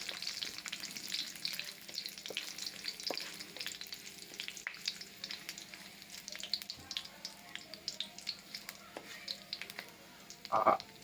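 Curry leaves sizzle in hot oil in a pan, a steady faint crackle and spatter with scattered pops and one louder burst near the end, no voices.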